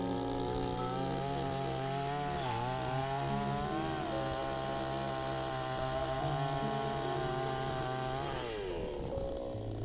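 A chainsaw cuts dead apple trees in a continuous, loud, close engine drone. The pitch dips and rises as the saw bites into the wood, and no voices can be heard.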